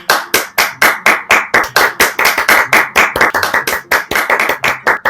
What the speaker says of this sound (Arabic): ايه بطل، تصفيق